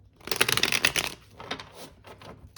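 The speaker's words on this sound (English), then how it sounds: "We'll do one last shuffle" Close, crisp riffling of a tarot card deck being shuffled, a dense burst of flicks followed by a few softer, shorter shuffles.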